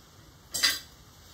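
A metal spoon is lifted out of an Instant Pot of dulce de leche in a home kitchen, giving one short bright clink and scrape against the pot, heard alone and close.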